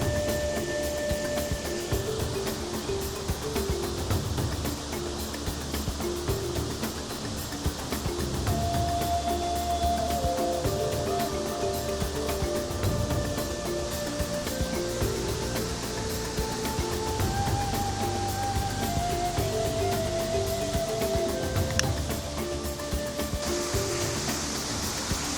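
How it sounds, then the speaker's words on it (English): Continuous rushing water roars steadily from a waterfall in Karura Forest, a broad wash of falling water close by with no pauses and no talking. "enjoy the sound from the waterfalls"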